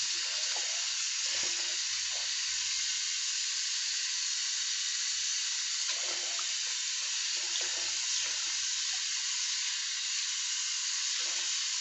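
Hot water runs steadily from a tap while a used helmet is washed beneath it, a constant close hissing rush with occasional low thumps and splashes from handling.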